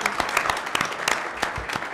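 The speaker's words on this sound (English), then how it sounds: "I think we can have applause" A small group applauds at an Albuquerque city council meeting, scattered separate claps close by for a brief moment.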